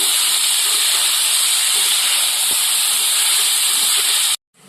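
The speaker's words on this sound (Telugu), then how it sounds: "ఒకసారి మొత్తం కలుపుకొని మీడియం ఫ్లేమ్ మీద ఫ్రై చేసుకుందాం మాడిపోకుండా" Carrot and peanut fry sizzles in a pan on a medium flame, a loud, continuous hiss held steady for several seconds before cutting off abruptly.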